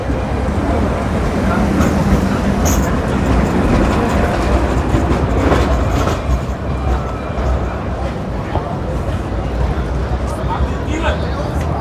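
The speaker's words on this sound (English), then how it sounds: "This is an older Tatra tram." An older Tatra tram runs through the streets of Sofia, Bulgaria, with a steady rolling rumble and rail clatter heard from on board, mixed with traffic and a background babble of voices throughout.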